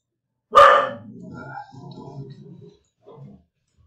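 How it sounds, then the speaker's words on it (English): A dog barking at night indoors: one sharp, loud bark up close, followed by lower trailing grumbles and a short, faint second bark, with silence around them. "She's just barking at nothing."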